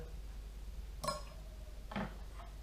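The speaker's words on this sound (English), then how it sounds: "you just want to give it a little tap, make sure there's no powder on the inside of the blender." Two light taps on a blender jar to settle protein powder, about a second apart, close and faint, with the second tap duller.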